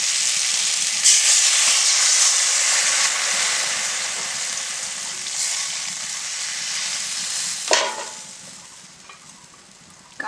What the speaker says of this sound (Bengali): এবারে সর্ষে বাটা দিয়ে দিচ্ছি